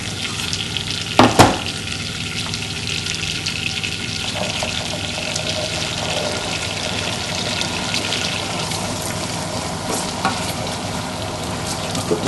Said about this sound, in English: Now we just let that butter cook up the ginger a little.